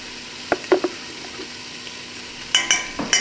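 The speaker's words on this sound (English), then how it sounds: "Now I'm going to add in 4 cloves of garlic." Garlic cloves drop into a pot of sautéed vegetables for a sausage and cabbage soup, sparking a few short clusters of sizzling and stirring clatter against a quiet background.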